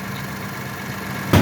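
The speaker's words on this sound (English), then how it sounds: "with the motor running, this is a shot of the exhaust" A Ford F-150's 3.5-liter engine idles steadily, a low continuous hum heard alone and up close, ending in a brief louder thump.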